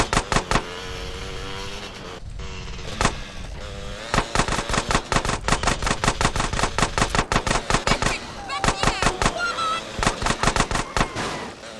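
Rapid bursts of automatic gunfire in the video game GTA San Andreas, loud and close, with short pauses between volleys and a car horn mixed in, no talk.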